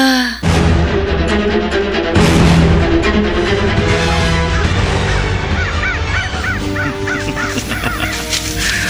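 Flock of crows arriving with loud, overlapping harsh caws and honking calls, a dense, continuous clamor of many birds close by, layered thickly over nine seconds.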